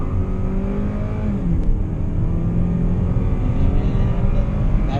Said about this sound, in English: We are doing a 0 to 60 pull from the outside.